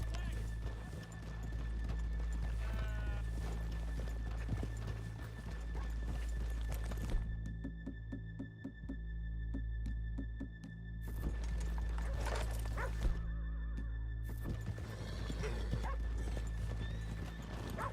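Rhythmic hoof clip-clop of several horses with a whinny in the video game Red Dead Redemption 2, over a low steady hum and soft background talk, fairly close.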